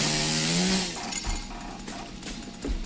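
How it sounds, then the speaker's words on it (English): A chainsaw in the Evil Dead video game revs loudly at first, then drops to a rough idling rumble that sputters on for a couple of seconds, close and alone without talk. "Oh, the chainsaw."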